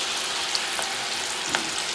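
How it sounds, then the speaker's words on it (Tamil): Steady crackling sizzle of banana flower rings frying in hot oil, with occasional small pops, close and continuous. "இப்போ நம்ம இது பொரிக்கிறோம்"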